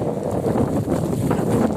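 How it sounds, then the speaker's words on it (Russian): Strong wind roars steadily through a snowstorm, a dense broadband rush buffeting close to the microphone with no pauses. "конечно, ветрище"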